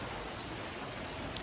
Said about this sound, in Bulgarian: Вали дъжд.